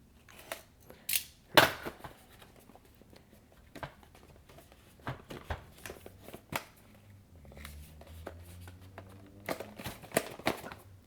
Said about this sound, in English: Okay, looks like we have some tape right here. So let's just undo this real fast.